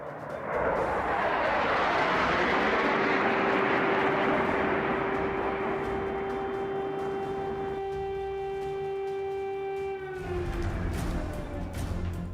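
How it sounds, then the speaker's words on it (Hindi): Fighter jets on a drill roar overhead, a loud continuous engine rumble with a rising whine that holds steady and shifts in pitch near the end. "लड़ाकू विमान आसमान में ड्रिल कर रहे हैं।"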